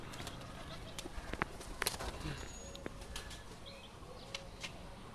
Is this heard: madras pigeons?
yes